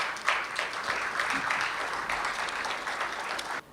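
Audience applause at a fintech launch event in a hotel hall, a sustained dense wash of clapping that holds steady, then cuts off abruptly near the end.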